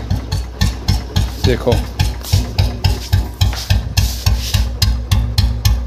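A Bullet motorcycle engine idles with a deep, heavy exhaust, throbbing in steady low pulses close by, with a brief spoken word partway through.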